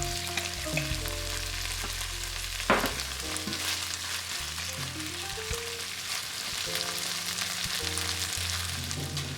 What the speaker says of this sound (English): Add ketchup and sake and stir fry to combine with the ingredients.